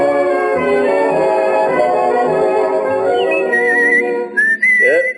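A person whistles a sliding, warbling tune in an old-time radio show, loud and close, with bright sustained notes that bend upward near the end.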